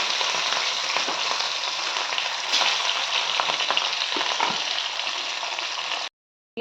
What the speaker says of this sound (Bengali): তেলটা গরম হয়ে গেছে আর মাছটা আমি দিয়ে দিচ্ছি